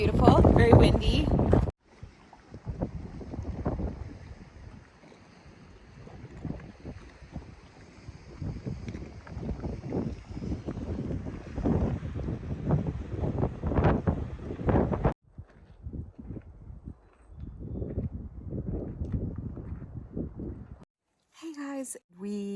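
Strong gusting wind batters the microphone on the Pacific Crest Trail, loud irregular blasts that rise and fall, with brief quiet gaps.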